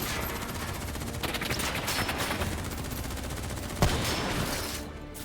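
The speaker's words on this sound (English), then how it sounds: "Who's shooting?" Sustained automatic gunfire in Call of Duty: Black Ops III: a dense, continuous machine-gun rattle, loud and close, with one sharper blast near the end and no talk.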